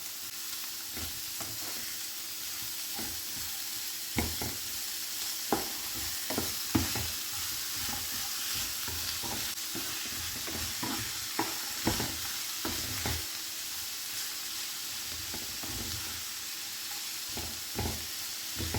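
Seasoned ingredients for a banana stem and moong dal thoran sauté in a pan under a soft continuous sizzle, punctuated by irregular scraping stirs and utensil taps, close but quiet, with no voices.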